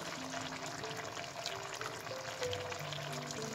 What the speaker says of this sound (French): Je vais transvaser mes pâtes dans la sauce.